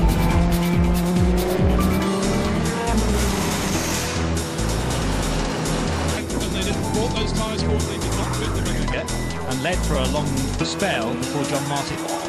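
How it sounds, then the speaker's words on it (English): Race cars at Silverstone during an FIA World Endurance Championship race, a loud dense pack of engines roaring past with shifting pitch and tire squeal, continuous and close, under a commentator's voice. "So we're waiting as a huge gaggle of cars head across."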